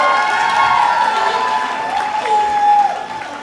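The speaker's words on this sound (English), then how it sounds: "Give Josephine a round of applause." Crowd at the Down Rose of Tralee event applauding Josephine, loud clapping mixed with cheers and a few shouts, swelling briefly near the end before easing off.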